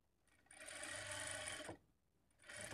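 A sewing machine stitches a blouse lining in two close runs: a long steady whirring burst of about a second and a half, a short pause, then another run starting.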